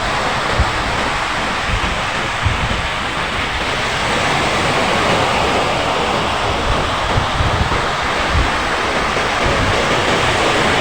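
Steady roar of ocean surf at Baler, Philippines, broadband and continuous with small swells of breaking waves throughout, no voices.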